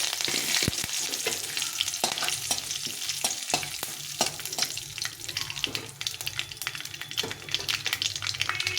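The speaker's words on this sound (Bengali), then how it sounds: "এটা এমনি চিরবিরিয়ে উঠবে তখন দিয়ে দেবো এখানে কারি পাতা নিয়েছি কয়েকটা কারি পাতা" Curry leaves crackle and sizzle loudly in hot oil, a dense spitting hiss punctuated by sharp pops and spatula scrapes, close up and with no speech.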